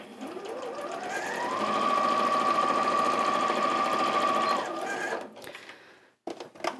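An Elna 550 sewing machine runs steadily through a straight seam, a close, loud whirring hum that spins up, holds for about three seconds, then stops, followed by a few small handling clicks.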